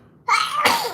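One sharp, close sneeze, a quick breathy intake followed by an explosive burst.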